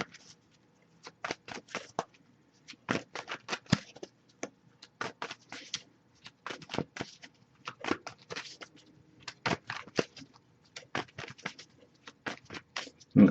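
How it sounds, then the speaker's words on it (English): Tarot cards are shuffled by hand in quick, irregular bursts of crisp riffling and papery slaps, close and quiet, with short pauses between flurries and no talk. "so I'll shuffle for a little longer, see if we get a jumper"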